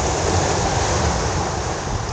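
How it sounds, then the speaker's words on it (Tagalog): Steady, roaring surf noise of strong waves breaking on a shore where a baitcasting rod is being tested, continuous and close, with some wind rushing over the microphone. "Grabing alon, no?"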